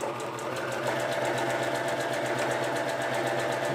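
A Necchi C35 sewing machine stitches a decorative zigzag, its needle hammering in a fast, even, continuous rhythm at close range with a steady motor hum underneath.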